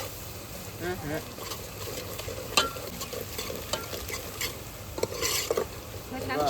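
Dried bombil fish curry cooking in a pan, with a continuous sizzle and rhythmic scraping of a spoon stirring, while voices talk quietly in the background.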